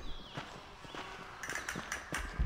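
Horse hooves clip-clop in the Red Dead Redemption video game, a quick run of moderate hoofbeats with several sharper steps toward the end, under game ambience.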